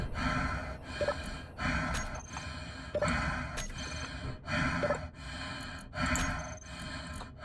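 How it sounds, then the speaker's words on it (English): A female video game character panting after running, with heavy breaths coming in a steady rhythm of roughly one per second, close and prominent, without talk. "I ran too far. She's panting again."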